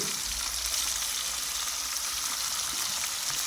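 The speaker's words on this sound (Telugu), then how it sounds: "మ్యారినేట్ చేసుకున్న చికెన్ని ఆయిల్ వేడెక్కిన తర్వాత ఈ విధంగా వేసేయండి" Marinated chicken hitting hot oil over a village wood-fired stove, a loud, steady, close hiss of frying that fills the moment without any voices.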